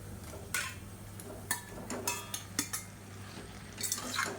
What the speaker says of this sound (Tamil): இப்போ 1/2 கிலோ போன்லெஸ் சிக்கனை சேர்த்துக்கலாம்